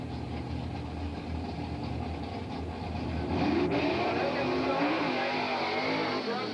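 A 427-powered 1969 Chevy Nova drag race car at a 1983 springnationals drag strip rumbles loudly and steadily, its engine rising midway into a harder, building roar.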